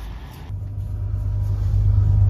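Low, steady engine rumble inside a bus carrying a track team to a meet, building slightly as the vehicle drives on, with a faint voice briefly in the background.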